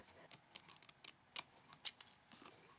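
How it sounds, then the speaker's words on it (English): Scissors snip paper, trimming scalloped edges off a craft piece: a string of crisp, close cuts at an uneven pace, each a quiet sharp click with no talk. "I'm going to go ahead and grab my scissors"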